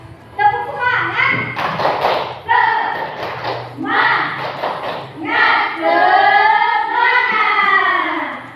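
A group performs the rhythmic 'tepuk semangat' spirit clap, sharp claps and thumps in a quick patterned beat, mixed with loud voices chanting and speaking together close by.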